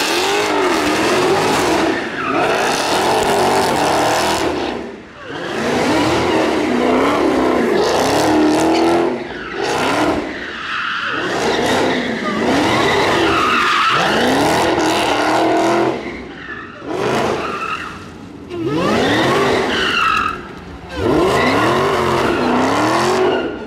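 Supercharged Dodge Hellcat Redeye skidding with tires squealing, in repeated loud bursts of high-revving engine and screeching rubber separated by brief lulls, close by and with no talking.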